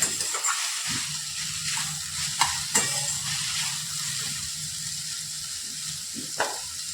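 Vegetables and chopped spring onions being stir-fried for Chinese-style veg noodles, a continuous close sizzle with occasional clinks and scrapes of the spatula, no one speaking.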